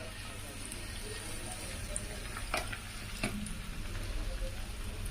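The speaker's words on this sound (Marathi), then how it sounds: "आता आपण फ्रिश फ्राय करायला घेऊया तेल गरम झालेलं आहे आपलं" Pieces of fish, a crisp-fried pomfret-style halva, sizzle gently in hot oil over low heat, a soft steady crackle with a few small pops and scrapes.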